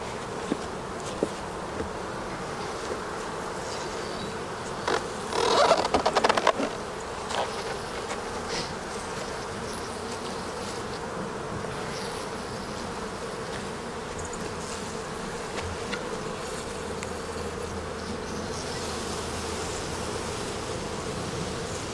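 Honeybees buzz around an opened backyard beehive in a dense, continuous drone, with brief closer louder passes of single bees and faint handling clatter from the hive.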